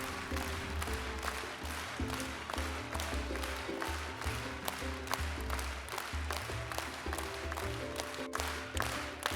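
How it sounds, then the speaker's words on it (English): A village gathering of the Karamojong community at Nakapelimoru in Kotido district, with people dancing, chanting and clapping in an early Sunday morning tradition. Steady rhythmic clapping and chanting with a driving low beat run loud and continuous throughout. "People dancing, chanting and clapping, which was part of their early Sunday morning traditional routine."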